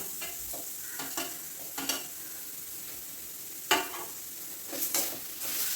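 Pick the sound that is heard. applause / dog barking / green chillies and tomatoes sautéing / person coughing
green chillies and tomatoes sautéing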